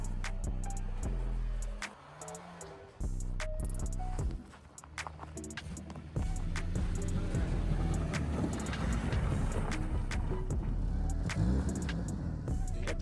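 A Honda Civic's engine runs and revs while the car drifts through a snowy blizzard, a steady close engine drone that briefly dips and cuts out twice before returning louder.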